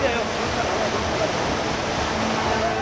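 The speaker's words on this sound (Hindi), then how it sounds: "पानी का बहाव जैसे ही और थोड़ा तेज हुआ, वैगनार भी पानी में तैरने लगी।" Floodwater rushes through a street in Jodhpur during heavy rain, strong enough to float cars, producing a loud, unbroken hissing roar of fast-moving water.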